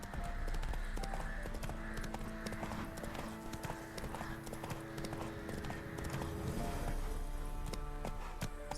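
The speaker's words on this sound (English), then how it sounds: "I wonder if that NPC's horse is just going to stand there and run for the hundreds of hours left in this game." Galloping hooves of a horse in The Witcher 3 clatter in a fast, steady rhythm, loud and close, with an occasional whinny and game music beneath.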